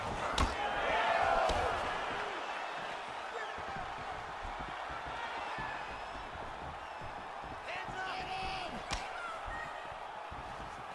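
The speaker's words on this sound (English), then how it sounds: "you hear the crowd react every time they come together" Arena crowd in a UFC video game swells and cheers as fighters trade strikes, a loud roar early that settles into a steady murmur, with sharp impact slams and a commentator's voice running over it.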